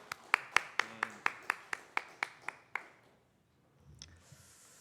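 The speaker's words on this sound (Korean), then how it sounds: "살아계신 왕 예수 그리스도께 영광의 박수를 드리겠습니다." A church congregation at a Wednesday worship service claps in unison, about a dozen sharp, evenly spaced claps over three seconds, then stops, leaving quiet room tone and a faint clatter.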